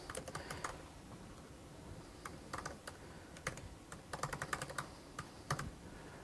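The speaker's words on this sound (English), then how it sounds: "I'm also a horrible typer, so I don't know why I still choose to do live coding" Fingers tap out quick, irregular bursts on a computer keyboard during live coding, the clicks close but soft, with short pauses between runs of keystrokes.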